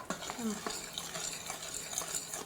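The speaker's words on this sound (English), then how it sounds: "So you just give it a good stir to break up the noodles" Boxed mac and cheese noodles being stirred inside an Instant Pot, giving soft, irregular scraping and clinking strokes of a utensil against the metal pot, fairly quiet and close, with no talking.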